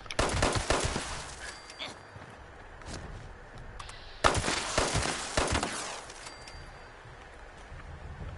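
Rapid automatic gunfire from a player's weapon in Fallout 76, loud bursts of shots in two main volleys with scattered single cracks between them, no talk over it.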